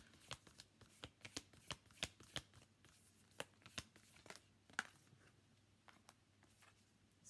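A deck of tarot cards being shuffled, with a steady run of crisp riffling flutters and snaps that are close but soft, and no voice.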